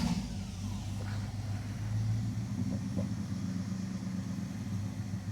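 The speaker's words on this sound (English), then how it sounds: "Rev it, Hemi, brother." A Hemi engine revving in a garage, a steady deep rumbling idle with mild swells of throttle, loud and close throughout, no speech over it.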